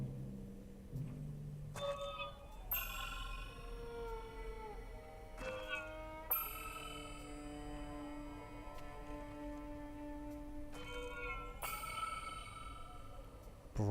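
A wind chime thrown in the video game Ghost of Tsushima rings out as several struck metallic tones with long shimmering decays, layered over soft game ambience and music, with no speech.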